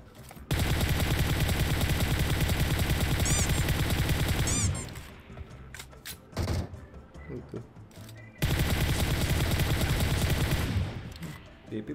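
A bot fires sustained automatic gunfire in PUBG Mobile, a loud continuous burst lasting several seconds, then a gap with scattered single shots, then another long burst, heard up close.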